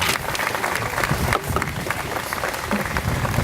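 Graduating class and audience at a school commencement ceremony applauding steadily, a dense continuous patter of many hands at moderate level, no voices on top.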